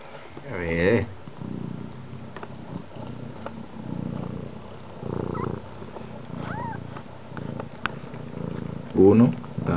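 Newborn kittens purr softly in a low, steady rumble close by, with a few faint squeaks, mostly under a person talking throughout.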